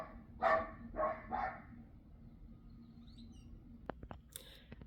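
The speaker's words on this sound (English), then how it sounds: "My dogs are going crazy." Dogs bark in a few loud, close bursts early on, then fall quiet, with faint clicks and chirps in the background.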